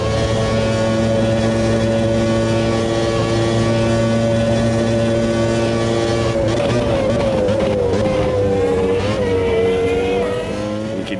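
Several 1992-season Formula 1 cars from a racing video game mod scream past continuously, high-pitched V-engines revving and shifting, with an opponent's engine note blending in and sweeping in pitch as the cars brake and accelerate.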